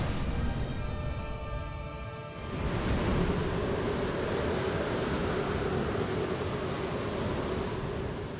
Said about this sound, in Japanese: 台風だ